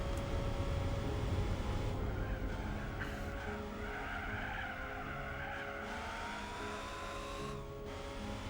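A car in Gran Turismo 4 braking hard and skidding, a sustained tire squeal over a steady engine drone that gradually eases, loud and continuous throughout.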